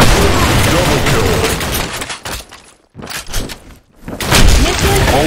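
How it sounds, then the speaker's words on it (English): Video game combat in Broken City with a grenade blast and a dense burst of loud gunfire, booming and crackling up close, dropping briefly to near silence before the heavy noise returns. "Fire in the hole. Grenade. Grenade."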